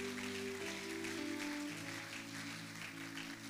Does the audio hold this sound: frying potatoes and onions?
no